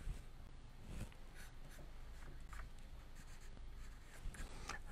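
A pencil sketches a butterfly on paper, faint soft scratching strokes in short irregular bursts, close but very quiet against a low room hum.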